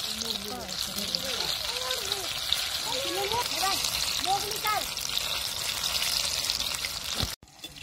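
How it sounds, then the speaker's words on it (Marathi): Ridge gourd bhaji fritters deep-frying in hot oil, a close steady bubbling sizzle running throughout while someone talks over it, ending in a sudden clatter. "तर आपले भजी पण चांगले आहेत, मस्तपैकी तळून झालेले आहे"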